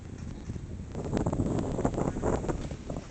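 Steady wind on a bridge roars across the microphone, growing stronger partway through and holding as a constant rumbling rush.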